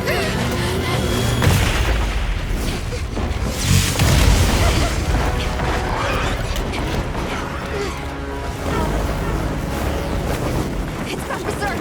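Gunfire and heavy booms in the Monster Hunter Wilds game, a dense, continuous barrage of loud blasts and rumbling impacts layered over mechanical clatter, with a voice speaking partly beneath the din.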